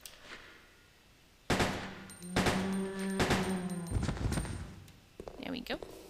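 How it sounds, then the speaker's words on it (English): Gunshots fired at a zombie in the video game Resident Evil Code Veronica X, several sharp loud shots spaced about a second apart with ringing tails, followed by a brief voice. "I'm going to shoot you, Mr. Zombie."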